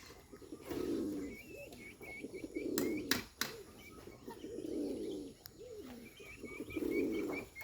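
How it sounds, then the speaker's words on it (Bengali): A Bombay pigeon gives repeated low, rolling coos in regular bursts at close range, with faint chirps and a couple of sharp clicks or wing taps between calls. "বোম্বাই কবুতর অনেক সুন্দর ডাকে"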